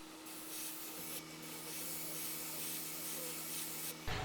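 Airbrush spraying thinned satin gold paint onto a large lipless crankbait lure, a continuous close hiss of air and paint with brief pauses and a steady underlying compressor hum.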